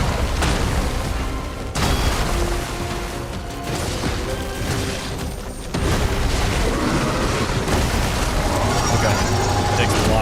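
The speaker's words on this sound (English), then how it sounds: "Takes a lot of damage from explosions." Explosions in the video game Lies of P, Overture DLC, make dense, loud, continuous booms and crashes that carry through the whole stretch, with deep rumbling combat noise underneath and sharp bursts where the sound jumps.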